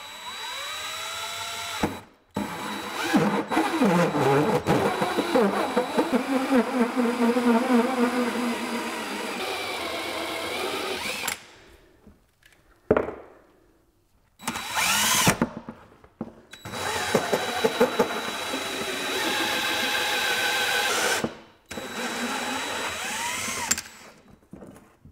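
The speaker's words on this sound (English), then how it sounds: "It just so happens I have a hole saw the perfect size." Power drill driving a hole saw through a plastic case, a loud steady whine with shifting pitch that runs for several seconds, stops briefly, restarts in short bursts, then drills again before cutting off.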